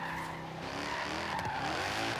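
Tires squeal continuously as a 1997 BMW M3 with a drift tune slides sideways in Forza Horizon 3, the loud screech layered over steady engine drone for the whole stretch.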